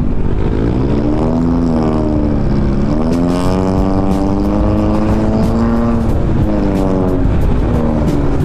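A Honda Click 125i scooter with a loud aftermarket muffler revs nearby, its exhaust tone rising and falling in loud, buzzy sweeps under a steady engine drone.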